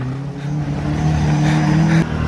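A Toyota Starlet engine on a 75 shot of nitrous runs steadily and loudly up close, with a strong low droning hum that cuts off just after two seconds.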